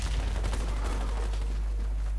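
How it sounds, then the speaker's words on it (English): Gunfire in a first-person shooter video game, a loud continuous burst of rapid shots filling the whole stretch with dense, heavy low-end rumble and no speech over it. "I'm shooting him like close up and he still got me"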